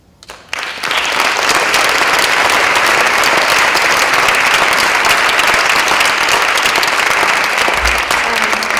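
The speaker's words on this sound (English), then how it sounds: "So if everyone could just give one more really loud round of applause." A school audience bursts into loud, sustained applause for visiting Parkland students, with dense clapping from many hands that starts abruptly and continues steadily to the end, with no speech over it.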